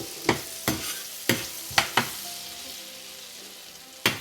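Chopped garlic sizzles softly in melted butter in a pan, a quiet steady fry broken by several sharp clanks of a stirring spoon against the pan, with no one speaking.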